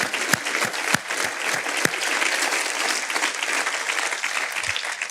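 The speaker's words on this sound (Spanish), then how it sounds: "Denle un aplauso al Señor, hermano" A church congregation applauding, sustained steady clapping from a crowd with a few sharp louder claps near the start, filling the whole stretch.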